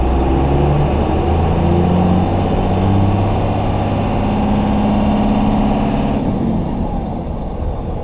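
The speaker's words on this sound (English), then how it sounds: "Let's see what it's like to drive a Cummins powered Silverado." Cummins diesel engine swapped into a Chevrolet Silverado 2500HD on a cold day in South Georgia, a steady loud low rumbling drone as the truck drives, heard from inside the cab without talk.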